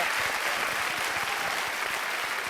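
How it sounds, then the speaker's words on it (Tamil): A studio audience at a Tamil television game show claps steadily and briskly for a contestant, a short, even burst of close, full applause. "நல்லா ஜோரா கை தட்டுங்க பாவுக்கு"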